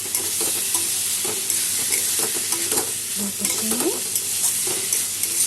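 Pointed gourd (kakrol) stirred and fried in a pan for a vegetarian Bengali dish, giving a steady loud sizzle with repeated scraping stir strokes throughout, no talking.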